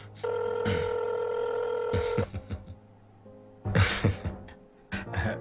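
Telephone ringing unanswered in an office setting, a loud tonal electronic ring sounding for about two seconds, then a shorter second ring, with a voice speaking between and over the rings.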